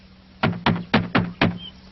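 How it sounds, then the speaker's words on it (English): Five firm knocks land on a wooden cottage door in a slightly uneven rhythm, each a close, hollow rap, with a faint steady hum underneath. "Let's knock at the door."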